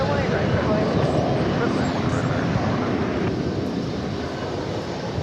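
An American Airlines jet from Querétaro comes in to land at DFW airport, a steady broad roar of engine noise held at a constant level throughout.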